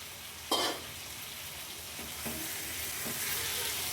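Chicken pieces and papaya frying together in a pan, a continuous soft sizzle with a few brief stirring scrapes, close by and with no talk.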